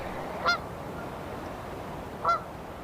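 Two loud goose honks, about two seconds apart, standing out over a soft steady outdoor hiss, on a frosty day by the Bow River.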